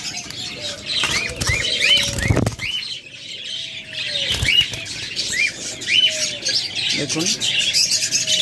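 A pair of rainbow budgerigars in a cage chirp in quick, repeated bright tweets, with bursts of wing flapping, while someone talks over them.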